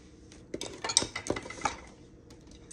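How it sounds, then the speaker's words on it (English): A spoon stirs roux mix into a pot of jambalaya, giving a few scattered clinks and scrapes of metal against the pot that are close and moderately loud, with no talking. "let me mix it up first"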